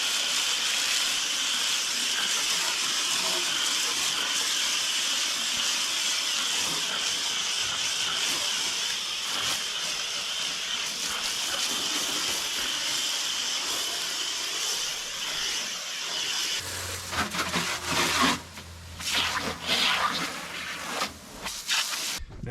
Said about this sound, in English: And then I'll rinse it off and dry it with the towel,